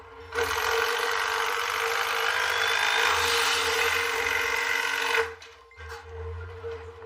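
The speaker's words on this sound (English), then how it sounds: "put some more screws in there" A power driver drives a screw into a wooden beam during a house renovation, a loud steady whine lasting about five seconds that cuts off abruptly, followed by a brief second whir up close.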